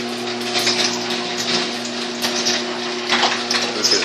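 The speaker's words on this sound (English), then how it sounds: "And right now, I'm going to open up the garage door." A garage door opens during a blizzard with a steady mechanical rumble and hum, close and fairly loud, with scraping and crunching bursts throughout and no talking.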